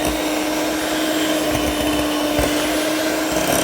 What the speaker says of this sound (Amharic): በመምቻ እመታዋለሁኝ።